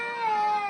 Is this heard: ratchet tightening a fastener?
no